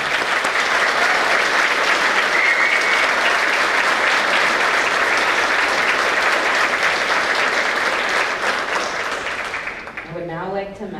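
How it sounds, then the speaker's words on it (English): High school awards audience applauding newly named student officers, a long, loud, dense round of clapping that holds steady before tapering, with a voice starting to speak at the end. "Please give our officers a round of applause."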